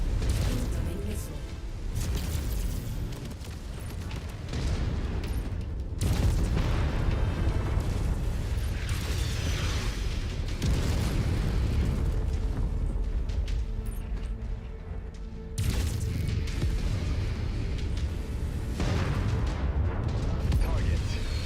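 Missiles explode during mech combat in a video game: heavy, booming blasts and rumbling bursts rise and fall repeatedly across a dense background of gameplay noise, with radio-style voice callouts mixed in.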